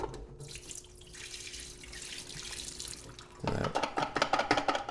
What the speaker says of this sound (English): I'm going to drain the water that it was soaking in